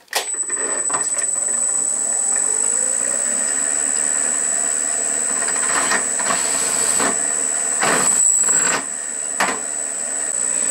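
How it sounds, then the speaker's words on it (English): A machine-driven single-flute (uniflute) countersink cuts into metal with a sustained high-pitched squeal and chatter. A few bursts of scraping cutting noise rise and fall over steady machine hum. "Okay, let's countersink with a uniflute."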